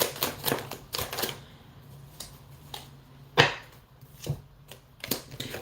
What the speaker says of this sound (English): Let's do one more shuffle and see what we have going on.